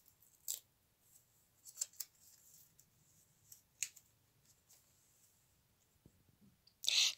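A plastic packet holding socks is opened by hand, with sparse faint crinkles and small snips and clicks over quiet room tone, ending in a louder, sharp rustling burst.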